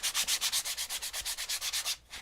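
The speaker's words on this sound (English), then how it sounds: "I'm not sanding hard. I'm just enough to sort of smooth out that surface." Rhythmic back-and-forth light sanding of an MDF surface, steady and close, with about a dozen even scrubbing strokes before a brief pause.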